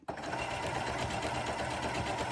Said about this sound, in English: So as I sew down, I'll just line it up.